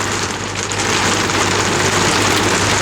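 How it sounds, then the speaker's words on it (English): Very heavy rain during a storm in Bologna, Italy, heard around a camper van: a dense, loud, continuous roaring hiss with no voices. "the heaviest rain I've ever seen"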